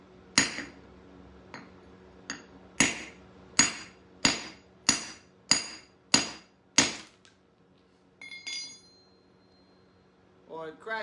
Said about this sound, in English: get a nice spot and just a few nice strong whacks